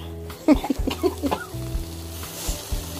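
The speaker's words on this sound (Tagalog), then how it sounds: "Samahan nyo kami mag-barbecue." Barbecue meat sizzling on a grill at a late Christmas and advance New Year party at a friend's house, a steady crackling hiss punctuated by a few sharp clinks and scrapes close by.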